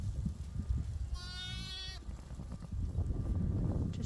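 A newborn lamb and its ewe bleat during lambing in winter; one clear, wavering bleat stands out midway over rustling and low background noise.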